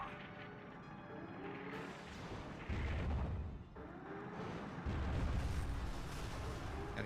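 Rocket blasts and explosions in a Superman video game level with small tanks, rolling booms that surge twice over a dense layer of game music and effects.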